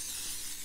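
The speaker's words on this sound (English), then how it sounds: "I just tend to use the butter flavored spray" Butter-flavored cooking spray hisses from the can in one short, steady, close burst that ends abruptly.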